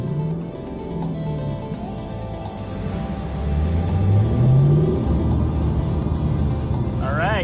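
A Lexus LC500 coupe on a racetrack gives a steady, close engine rumble that swells and rises in pitch through the middle, then settles into a sustained drone.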